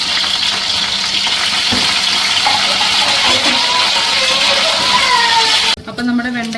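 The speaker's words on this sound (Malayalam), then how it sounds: "ചീനച്ചട്ടി അടുപ്പത്ത് വെച്ചിട്ട് ഞാൻ അതിനകത്തേക്ക് വെളിച്ചെണ്ണ ഒഴിച്ചിട്ടുണ്ട്. അതിൽ നമുക്ക് ഈ വെണ്ടയ്ക്ക ഒന്ന് വഴറ്റിയെടുക്കാം" Okra sautéing in coconut oil in a pan gives a loud, steady sizzle and crackle throughout, with occasional stirring clinks, before a voice begins talking at the very end.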